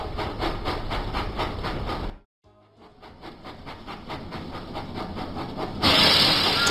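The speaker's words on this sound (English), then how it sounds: "Thomas puffed proudly into Farmer McCall's farm." Thomas the Tank Engine puffs along in a video game, a rhythmic chuffing over a steady rail rumble that drops out briefly, then returns, ending in a brighter burst of steam hiss.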